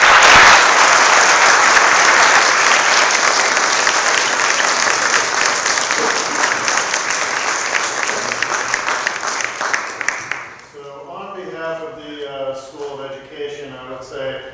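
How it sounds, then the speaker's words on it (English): A crowd at a World Teachers' Day event gives a loud, sustained round of applause that slowly fades before someone starts talking. "Can we end with a good round of applause for everyone?"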